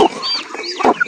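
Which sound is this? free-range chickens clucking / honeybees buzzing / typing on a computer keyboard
free-range chickens clucking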